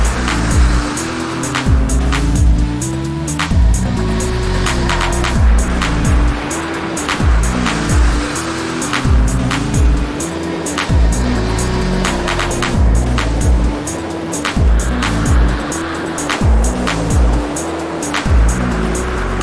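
A turbocharged Mazda MX-5 street car drives loud and close, its engine note rising and falling in repeated surges of acceleration, with hints of tyre noise.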